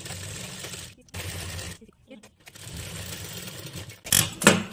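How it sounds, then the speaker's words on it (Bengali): A sewing machine stitching a folded fabric hem on a baby frock, bursts of motor whir broken by short pauses, with a louder rattling run at the end. "এখান থেকে আমি সেলাই করে আসবো"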